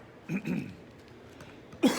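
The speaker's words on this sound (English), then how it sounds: "Excuse me to clear my throat." Someone close by clears their throat in a couple of short, rough bursts, then gives one more brief hack at the end.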